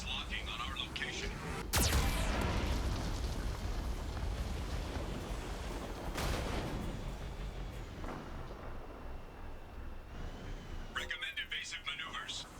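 A Geth cannon in Mass Effect 2 (Legendary Edition) fires a single loud blast that booms and rolls into a long rumbling roar, with spoken game alerts around it.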